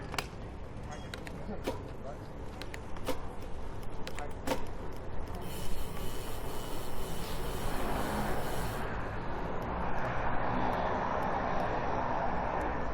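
A fixed-wing airplane at an airfield, heard from a distance as a broad, steady roar that builds and broadens as the engine warms up and the aircraft departs, lasting throughout under background noise.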